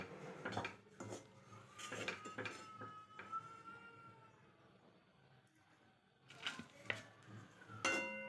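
Metal spoon scraping and tapping against a ghee-greased plate while spreading a roasted ripe banana mixture, with repeated clinks and scrapes in bursts, a quieter stretch in the middle, then more clatter near the end.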